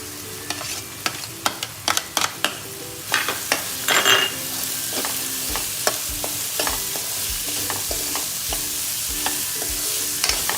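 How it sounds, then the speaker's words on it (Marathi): Chopped onion frying in a pan for a prawn masala, a constant close sizzle with sharp spatula knocks and scrapes early on, settling into even frying. "हे मस्त असं परतून झाल्यावर त्याच्यामध्ये आपण चिरलेला कांदा टाकणार आहोत"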